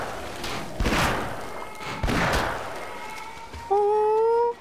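Lever being pulled in the video game Half-Life, heard as two heavy mechanical thuds about a second apart, followed by a steady tonal hum or whine that starts near the end and holds.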